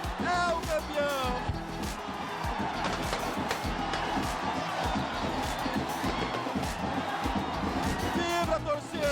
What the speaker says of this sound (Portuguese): Vibra torcida, vibra povão!